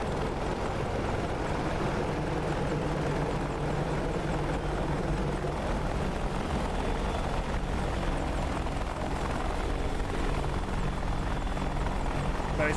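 An AH-64D Apache helicopter in the DCS video game comes in to land on a helipad at night, its rotor roar and turbine whine holding loud and constant throughout, with no voices over it.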